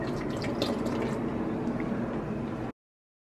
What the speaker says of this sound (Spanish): Le agrego más líquido.